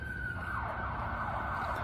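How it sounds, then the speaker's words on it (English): An ambulance siren sweeps past outdoors, its wailing tone rising and falling steadily over steady traffic rumble, fairly loud and close with no talking. "There's an ambulance."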